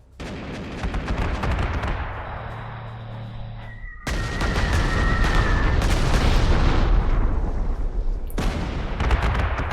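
Artillery fire in Panzer Corps 2 at the gates of Moscow: dense, loud rumbling booms and bursts rolling continuously, with a sharp cut around four seconds where a heavier barrage takes over, no voices.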